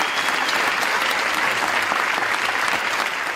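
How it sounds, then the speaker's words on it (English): Sustained, dense applause from hundreds of people in a festival cinema audience giving a standing ovation in Venice, an even, continuous roar of clapping with no pauses. "the Venice crowd gave a standing ovation."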